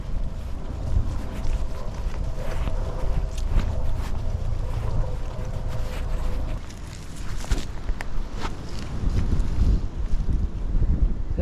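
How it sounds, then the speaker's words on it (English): Wind roars steadily past the microphone while riding a Brompton folding bike along a canal, with a continuous low rumble and gusty buffeting throughout, no talking. "I've definitely got the wind behind me"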